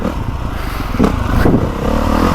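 2025 Honda CRF450R dirt bike engine running in the woods, a loud, close, continuous motor drone that surges as the throttle opens, with clattering along the way.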